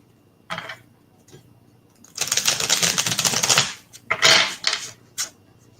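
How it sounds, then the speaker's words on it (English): Quick bursts of riffling, clicking tarot card shuffles, one short flick followed by a longer rapid riffle and a few brief snaps, separated by quiet pauses. "I'm shuffling for you."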